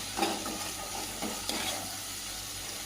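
Mint leaves frying in a pan while being stirred, a soft continuous sizzle with a few scraping stir strokes, fairly quiet and close, no talking.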